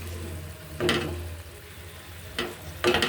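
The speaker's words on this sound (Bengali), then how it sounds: "পেঁপেটা দিয়ে দেওয়ার পর একটু নেড়ে চেড়ে নিচ্ছি" Boal fish and papaya curry stirred in a pan, giving a few brief scraping, sizzling strokes against a low steady cooking hiss, with quiet gaps between stirs.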